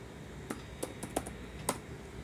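Four or five sharp, quiet keystrokes on a computer keyboard come at uneven intervals over a faint background hush.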